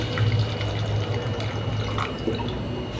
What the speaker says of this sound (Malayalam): ഇതിലേക്ക് നമുക്ക് കുറച്ച് വെള്ളം ഒഴിക്കണം